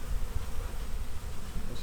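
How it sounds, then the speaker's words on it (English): A small wasp buzzes close by at a beehive during a package bee installation, a steady continuous insect drone with no talking. "Little wasp there."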